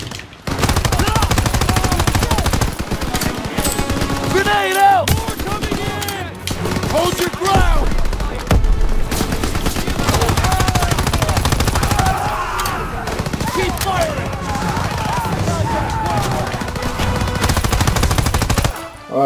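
Automatic and rifle gunfire from the World War II shooter game Call of Duty WWII, dense continuous bursts filling most of the stretch with brief lulls, loud and close, with someone talking over it.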